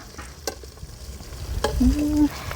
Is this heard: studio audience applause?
no